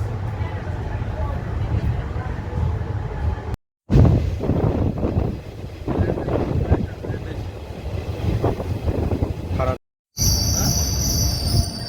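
Train no. 03065 rumbles as it pulls away from Sadinpur, its wheels squealing and screeching on the rails, with people talking over the rolling noise.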